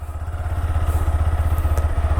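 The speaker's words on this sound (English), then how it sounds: "We can experience that beautiful engine even in the exhaust note too, that refined engine." A Honda NX 200 motorcycle's single-cylinder engine idles close by with an even, pulsing exhaust thump.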